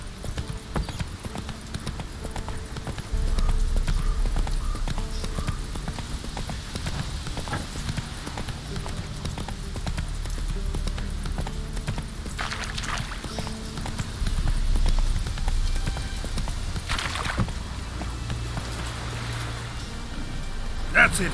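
Roach, the horse in The Witcher 3 video game, trots with a steady clip-clop of hooves under ambient game sounds, moderately loud and continuous, with a brief voice now and then.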